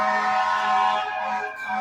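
An emergency vehicle siren wails outside a home kitchen during tomato sauce cooking, a steady tonal whine heard alone, fairly faint and distant.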